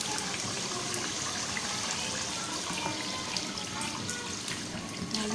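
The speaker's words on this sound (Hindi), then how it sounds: "मैंने खूब सारा इसमें पानी डाल दिया" Water is poured generously into a pot of nihari meat, making a continuous broad splashing rush that stays close and loud without pause, and no one speaks over it.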